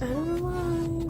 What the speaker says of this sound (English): And I'm sorry if you hear a dog in the background.